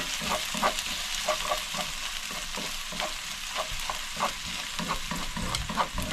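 Garlic and onion sauté in a hot pan with a steady, close sizzle and frying crackle, while a utensil stirs and scrapes at a regular rhythm throughout.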